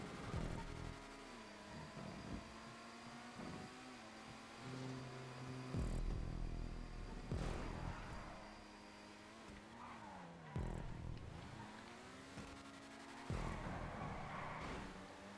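A supercar engine in a GTA Online video game race revs and sweeps up and down in pitch, with tires squealing and skidding between gear changes; it is continuous and fairly loud, with no talk.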